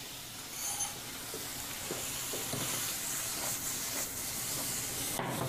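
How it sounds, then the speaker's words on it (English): Bacon sizzling in a pan with softened vegetables in a home kitchen, a steady crackling hiss that holds for several seconds, close and moderately loud with small pops and no talking. "while it's sizzling away here."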